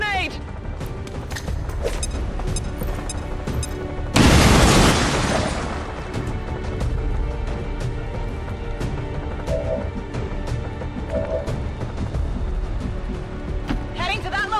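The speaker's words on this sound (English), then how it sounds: "Throwing grenade!" A grenade detonates in XCOM 2: War of the Chosen, one loud, sudden blast midway that rumbles and fades over about two seconds, set among quieter game effects and background sound.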